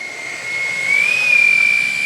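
Xfly J-65 RC business jet with twin 70mm electric ducted fans taxiing at low throttle, a steady high whine that rises slightly in pitch midway and holds, close and alone.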